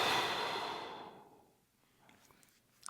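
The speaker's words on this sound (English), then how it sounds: "Another deep breath in. Open your mouth and exhale." Soft breath pushed out through an open mouth during a yoga practice, a long airy exhale fading away, followed by faint small room sounds.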